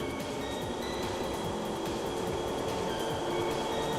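In the X-Treme Express racing video game on a snowy plain course, a train races past with a steady, dense rumble and rattle that holds at an even loudness throughout, with no talk.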